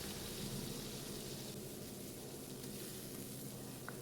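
Onion paste with garam masala spices fries in oil in a kadai, giving a soft, continuous sizzle like light rain, with one small click near the end and no talk.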